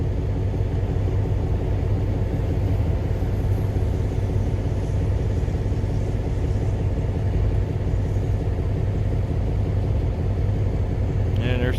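A mixed freight train with a long string of tank cars rolls past near Reading outer station, a loud, continuous low rumble and droning engine tone that stays steady and close throughout.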